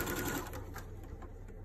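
Sewing machine stitching a curved-piece lap quilt, a quiet, rapid whirring chatter that slows slightly toward the end.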